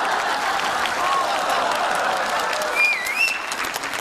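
Neighbours clap together for a home performance in a sitcom scene. The applause is sustained and moderately loud, with a few faint whistle-like chirps near the end.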